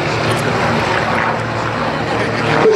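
Gamebird GB1 aerobatic aircraft performing torque rolls at an air display at Sywell, its engine droning steadily and loudly as it passes, with a faint voice underneath.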